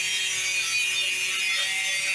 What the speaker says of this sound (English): So now we're going to try to drill the hole through